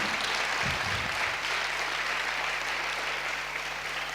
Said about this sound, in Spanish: ¿Por qué no le da un aplauso al Rey de Reyes?